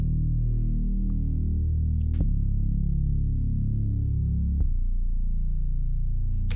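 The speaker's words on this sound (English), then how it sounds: "I took an Alchemy bass and a subby bass" A layered synth bass in Logic Pro, an Alchemy bass stacked with a subby bass, plays deep sustained low notes. Soft clicks mark the note changes, and no other instruments are heard.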